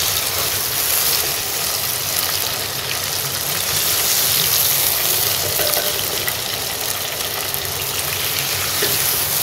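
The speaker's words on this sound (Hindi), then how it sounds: "चिकन को हम थोड़ी देर भूनेंगे।" Chicken pieces browning in a pot over golden fried onion, a dense, loud and continuous sizzle with faint stirring underneath, close up and with no voices.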